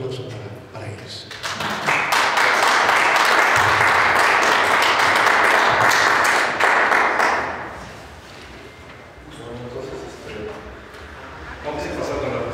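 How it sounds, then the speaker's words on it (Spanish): An audience applauds for the speakers as a talk begins, a loud sustained wash of clapping that swells, holds for several seconds, then fades under a voice. "un fuerte aplauso para ellos"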